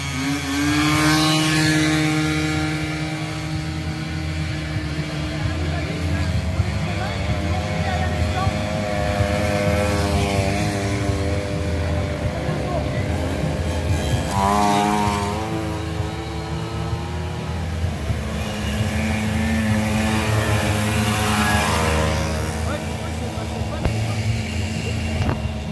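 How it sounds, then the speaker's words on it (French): A model turbine engine runs steadily and loudly at a lakeside event, a continuous whine with shifting harmonic tones throughout, with people talking over it. "C'est une turbine."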